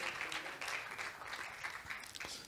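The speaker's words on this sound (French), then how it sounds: "on peut les applaudir" An audience at a French festival event applauds the jury members, a continuous crowd clapping heard from across a hall, evenly sustained and fairly soft, with no voices over it.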